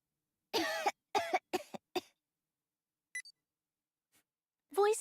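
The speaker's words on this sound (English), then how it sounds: "it was just Neon Brainwave coughing" The character Neon coughs in the game Goddess of Victory: Nikke, a close series of four or five sharp coughs in quick succession, then a faint beep and one more cough after a pause.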